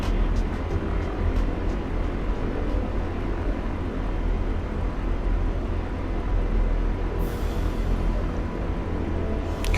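Chinook helicopter flying in a video game, a steady loud rotor and engine roar filling the whole stretch with no pauses and no talk over it.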